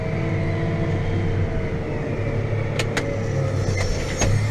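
Tractor engine on a farm field running anhydrous application, a steady low rumble that holds throughout with a couple of brief sharp clicks near the end and no talking.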